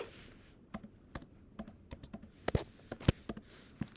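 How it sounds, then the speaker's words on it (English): Typing on a computer keyboard while entering equations in Sage math software, an irregular run of close, soft key taps with a few sharper strokes and no talk. "I'm just going to type it in, see what happens."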